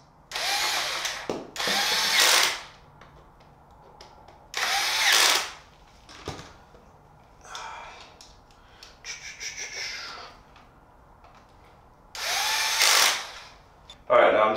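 A power drill drives screws into an adjustable lever belt, with several short, loud whirring bursts close by and pauses between them filled with lighter handling rubs and breathing.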